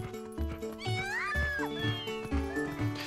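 A cat meows in Zelda: Twilight Princess, a few rising and falling tonal cries over looping game music with soft footsteps, fairly quiet.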